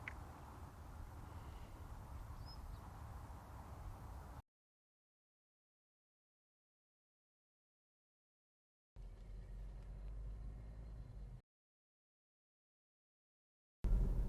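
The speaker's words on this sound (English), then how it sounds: "The one I'm currently driving, 140 kilowatts at the wheel, solid car, BMW." A sixth-generation BMW 320d 3 Series with 140 kilowatts gives a steady, low cabin rumble and road drone while being driven. The sound comes in two stretches separated by silence.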